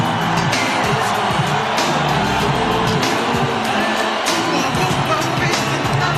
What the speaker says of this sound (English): Standing ovation for Evander Holyfield as we await the arrival of Mike Tyson.